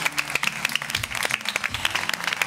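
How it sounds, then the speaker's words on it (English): Scattered audience applause welcoming a guest at a panel discussion on African culture, with distinct individual claps and a moderate crowd level, no talk over it. "I'd like you to give a warm round of applause"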